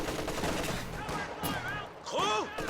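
MG34 machine-gun fire rattles from a flank in a Company of Heroes 2 match: a steady, moderately loud stream of rapid shots with distant battle noise, while a voice talks over it.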